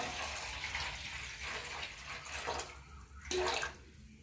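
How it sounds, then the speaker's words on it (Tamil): Water gushes steadily into an idli steamer pot, a continuous splashing pour heard close and alone for several seconds. "இட்லி பானையில் ஒரு சொம்பு தண்ணி ஊற்றிக்கலாம்"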